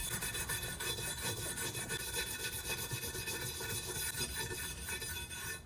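Wire brush scrubbing softened glue off a wooden chair with acetone, a steady, close, continuous rasping scrub with no pauses and no voices.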